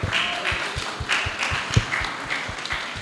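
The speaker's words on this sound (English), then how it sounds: "Let's clap for him." An audience at a design mixer claps for Joseph, a light, uneven round of applause with individual claps standing out and a few thumps underneath.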